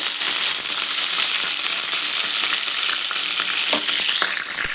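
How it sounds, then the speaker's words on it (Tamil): Mustard seeds and urad dal sputter in hot oil for a tempering, a steady loud sizzle with scattered crackling pops throughout, close up and with no talking. "கடுகு பொரியுது இதுவும் செவக்குது"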